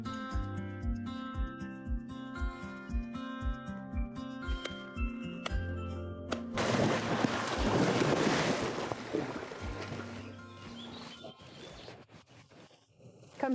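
Ocean waves surging and washing ashore after a stretch of tonal music, a broad rushing swell that builds loud, then fades, with faint clinks and wind buffeting the microphone.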